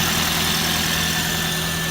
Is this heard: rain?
no